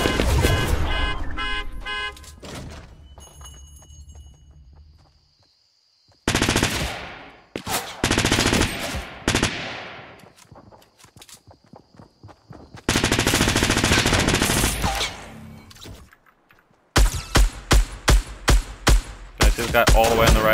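Loud gunfire in the video game Fortnite comes in rapid automatic bursts and single shots, separated by abrupt silent gaps.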